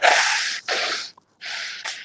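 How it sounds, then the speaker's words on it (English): Someone blows their nose in a few loud, hissing bursts of breath, two quick blasts, a brief pause, then two more, close to the listener. "I'm going to blow my nose."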